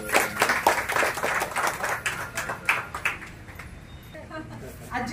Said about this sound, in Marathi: आजींसाठी जोरात टाळी वाजवूया आपण.